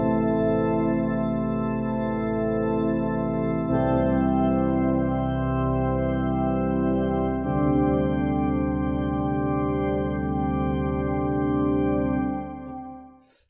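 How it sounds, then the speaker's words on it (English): Sustained sampled church organ tone from a Serum synth preset, holding rich harmonic chords that shift twice before fading out at the end, played alone with no talking. "which is a sampled church organ and sounds like this."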